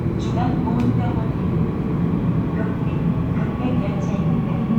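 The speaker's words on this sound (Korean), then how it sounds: "잠시 후 도착하는 열차는 중앙보훈병원" A Seoul subway express train bound for the Central Veterans Hospital rumbles into the station with a steady low roar and clatter, under a platform announcement and general station noise.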